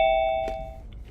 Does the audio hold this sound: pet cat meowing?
no